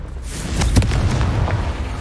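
A deep, rumbling blast from the Confringo fire spell in Hogwarts Legacy, a close, loud boom that rolls on with a sustained roar rather than cutting off.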